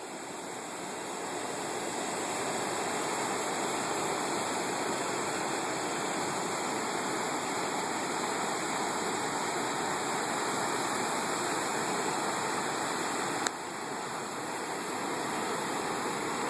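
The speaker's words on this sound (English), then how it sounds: "It's a nice view of the rapids water here." Rushing rapids at the Reversing Falls in Saint John, New Brunswick, where the tide forces the river back, a loud steady roar of churning water that fills the whole stretch, with one brief click partway through.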